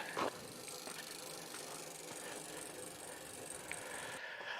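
A trike's freewheel clicks with a fine, rapid ratcheting tick, faint and close in a quiet workshop, with no talking.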